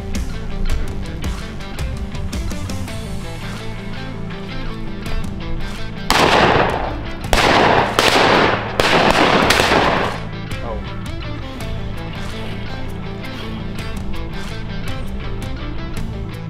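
Shotguns fire during a duck hunt, a cluster of loud close blasts in quick succession midway through, with steady background noise before and after.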